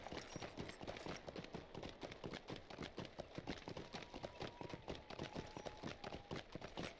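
Horse hooves clip-clopping at a steady running pace in the online game The Lord of the Rings Online (LOTRO), close and continuous for the whole stretch, with no voices over it.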